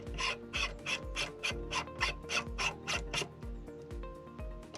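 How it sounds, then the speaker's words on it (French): A ZWO optical splitter being screwed into place on an astronomy setup gives a quick run of about eleven evenly spaced ratcheting clicks, each a short crisp tick over a steady low hum, close and fairly quiet. "Normalement, ça se visse correctement."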